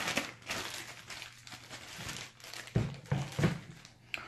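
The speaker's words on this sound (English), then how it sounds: "Then you put it in a little plastic bag like this." Plastic crinkles and rustles up close in irregular bursts, with a few sharper crunches toward the end and no talking.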